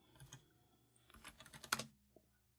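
Light typing on a computer keyboard, a short, quiet cluster of key clicks with a sharper keystroke near the end, close and otherwise silent.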